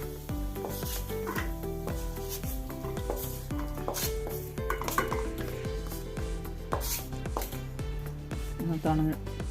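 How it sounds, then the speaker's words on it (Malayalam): Kokum chutney ingredients stirred in a pan until they wilt, with a close, regular scraping and clatter of the spoon against the metal pan over a soft sizzle, continuing in steady rhythm throughout. "നല്ലപോലെ ഒന്ന് വാടി വരുന്നവരെ ഇങ്ങനെ ഇളക്കിക്കൊണ്ടേയിരിക്കണം"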